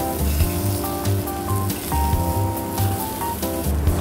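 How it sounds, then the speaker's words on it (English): New potatoes and broccoli florets frying in melted butter in a pan give a steady, continuous sizzle, close and fairly loud, with a faint tonal hum running underneath. "now we're going to pan fry the new potatoes and the broccoli florets."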